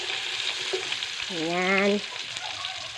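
Food hits a hot frying pan and sizzles loudly and steadily close up, with a short voiced word briefly heard over the crackle.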